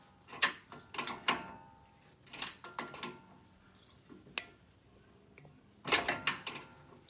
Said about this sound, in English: then just take some pliers and spread those apart.